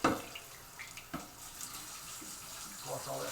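Kitchen tap water runs over a Kai Pro 5.5-inch prep knife and a cleaver at a sink, a faint, close splashing that rises and falls a little.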